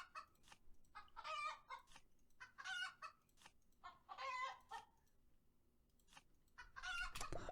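Chickens cluck in short, repeated bursts inside the video game Terracards, several distinct cackling phrases spaced across the clip with quiet gaps between them and no talking.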